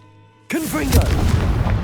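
Confringo spell explosion in Hogwarts Legacy, a sudden loud boom after a quiet start, followed by a rumbling, crackling burst that stays loud for over a second.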